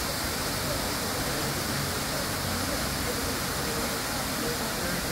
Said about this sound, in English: That's the Multnomah Waterfall.